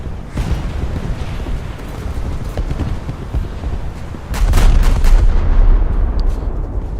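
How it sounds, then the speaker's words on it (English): Battleship turret guns fire salvos in the World of Warships game, heavy booming blasts over a constant loud rumble, with a stronger volley swelling near the end. "I only have 4 more salvos left in that front super-firing turret."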